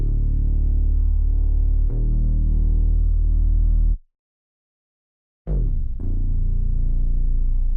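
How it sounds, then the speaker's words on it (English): Analog house bass synth one-shot playing deep sustained notes, loud and rich, with a sharp cut to silence for over a second before a new note attacks and continues. "This is the analog house bass."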